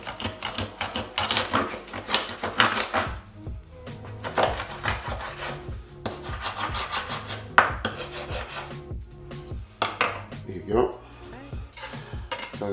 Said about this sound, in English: I'm going to cut through here nice and easy. The bone gets a little funny, okay?